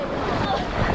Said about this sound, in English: The water's all choppy.